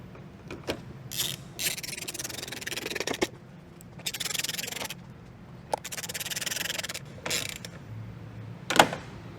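Bolts and a bracket being fitted during a 2015-2020 Ford F150 Lariat fender installation, with rubbing, scraping and clicking handling noises in bursts, fairly close, and no talking.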